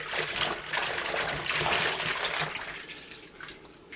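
Fiddleheads are swished around in a sink of water, giving bursts of sloshing and trickling that rise and fall, then settle into a quieter drip and slosh.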